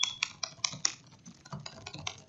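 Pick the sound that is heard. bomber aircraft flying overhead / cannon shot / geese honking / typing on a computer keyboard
typing on a computer keyboard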